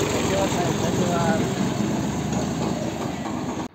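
A tractor engine runs with a steady, loud rumble throughout, close and unbroken, at Empress Garden in Pune during a flower show.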